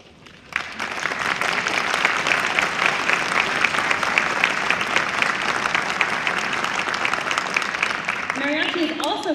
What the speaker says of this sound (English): please stand so that we can applaud you as well.